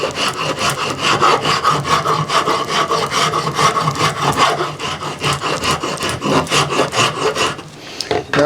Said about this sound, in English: we're going to go with the rasp because it was tearing out too much with the spoke shave